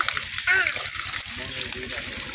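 Water gushes steadily from a public tap, a continuous close rush under a child's and an adult's voices.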